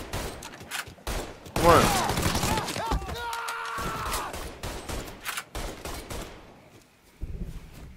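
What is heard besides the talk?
gunfire in Mafia 3 video game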